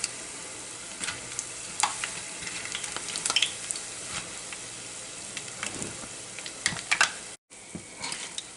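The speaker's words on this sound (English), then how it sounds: "you'll know when it's done because the oil is going to stop sizzling" Steady crackling sizzle of sev dough frying in hot oil, dense popping and spitting throughout, close and fairly quiet with a brief dropout near the end.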